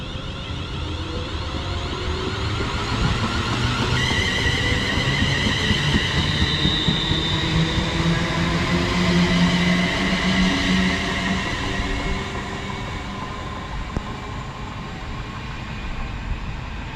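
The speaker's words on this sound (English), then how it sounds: "departure now is the 11:02 London Northwestern Railway service to Northampton" London Northwestern Railway Class 350 unit 350-258 departing Birmingham International on the West Coast Main Line toward Northampton, a loud continuous rumble of motors and wheels with rising electric whine and faint squeal, close and steady throughout.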